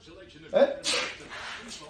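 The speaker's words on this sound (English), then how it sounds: "Sneezing." A single sharp sneeze bursts out close by, a quick intake then an explosive airy blast that trails off briefly.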